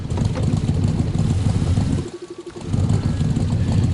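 A car engine in a video game rumbles roughly, then cuts out and sputters briefly before catching again and running on at a loud, steady drone.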